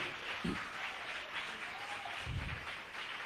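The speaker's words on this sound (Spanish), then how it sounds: "¿Alguien puede aplaudir al Señor esta mañana?" A church congregation claps during a Spanish-language morning service, an even, sustained spread of applause with a couple of low thumps, continuing steadily throughout.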